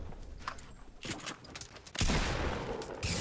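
Gunfire in a Fortnite match: scattered distant shots early, then a louder burst of rapid fire near the end, with in-game footsteps and clatter between.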